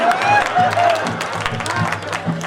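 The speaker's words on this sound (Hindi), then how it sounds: "ताली बजाओ मैया की" An audience at a jagran clapping for the goddess, a brief burst of crowd applause mixed with a voice and musical tones.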